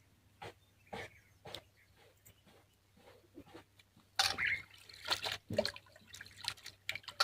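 Potato wafers lifted out of a pot of water: sparse, quiet drips at first, then louder bursts of splashing and trickling as the slices come out, with no voices.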